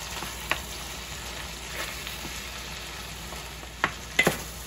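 Onion and chunks of meat fry in a pan for a stroganoff, a steady close sizzle with a few sharper clicks of stirring toward the end, no voices.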